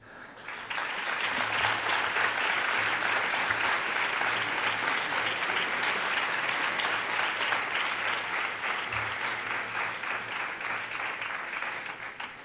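Students applaud at a university commemoration ceremony for Our Lady of Loreto at an aeronautical engineering school, a dense, sustained round of clapping from a large crowd that swells quickly and holds loud, tapering off at the end.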